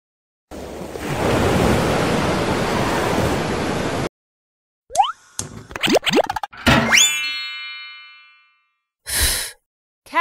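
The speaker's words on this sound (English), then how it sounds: "Surf." Ocean surf from a children's English lesson: a steady rushing wash of waves for about three and a half seconds, followed by separate short cartoonish boing and sigh-like effects after a brief silence.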